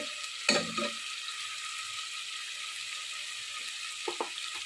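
Garlic and ginger paste frying in a pan, a steady close hiss of sizzling oil with a few scraping stirs.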